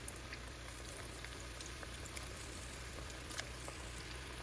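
Mixed pakoras fry in hot oil for Diwali, a steady soft sizzling hiss with faint crackles and pops, low and continuous throughout.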